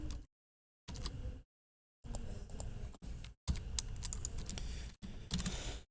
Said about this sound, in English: Still quite a bit of typing here